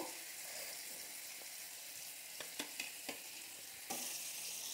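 Potatoes frying in oil, a soft continuous sizzle with a few sharp clicks and taps partway through, quiet and close with no voices.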